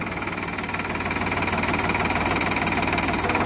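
A Sonalika DI 50 DLX tractor engine labours under load while working soil, giving a steady, close, rhythmic diesel chug with a slight knocking pulse throughout.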